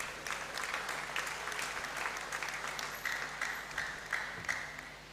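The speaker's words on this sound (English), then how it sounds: "I think you deserve a round of applause." Applause from graduates and guests rises in a university Great Hall during a congregation ceremony, a moderate wash of many hands clapping over several seconds with a few sharper claps standing out as it thins.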